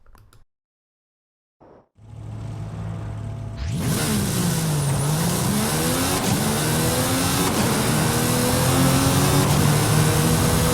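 Mercedes-AMG One hypercar in a racing video game, brief quiet then a loud, sustained engine roar as it launches and accelerates, revs sweeping up and shifting, close and alone with no talk.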